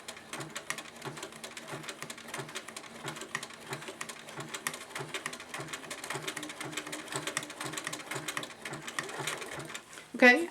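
A sewing machine stitches ribbon onto a homemade tarp in a fast, continuous run of rapid needle strokes. A faint background voice sits under the steady mechanical chatter, which ends in a short bump.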